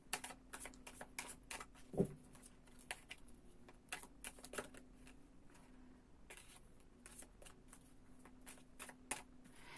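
Quiet, irregular riffling and soft card-on-card slaps of a Wheel of the Year tarot deck being shuffled, a steady low hum underneath, with one sharper knock near the start. No one speaks.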